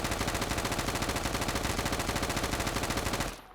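An automatic weapon in the game Deadside fires one long, fast, evenly paced burst for over three seconds, then stops abruptly, leaving quiet.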